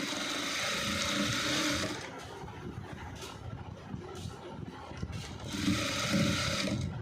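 A sewing machine stitches a drawstring onto a koti short jacket in two bursts of whirring motor noise at the start and end, with quieter handling and fabric rustle between.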